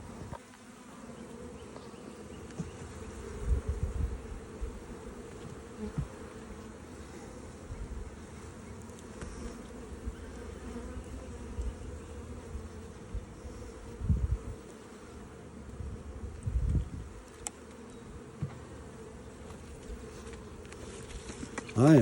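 Bees buzz around a beehive in a steady, close hum, swelling in a few louder passes as insects fly near, with a faint voice now and then.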